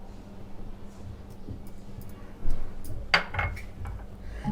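Metal kadhai (wok) set down on a gas stove in a home kitchen while cooking chicken, a few sharp clanks and pot clatters in the second half over low background noise.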